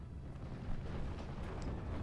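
Mortar fire and explosions in the WWII strategy game Steel Division: Normandy 44, a dense rumbling barrage of booms and distant blasts rolling continuously without voices.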